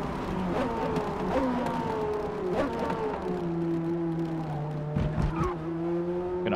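A Corvette with a flat-plane crank engine in a racing video game on the Yas Marina Circuit, revving high and shrill, its pitch climbing and dropping through repeated gear shifts, close and continuous with brief mechanical clunks.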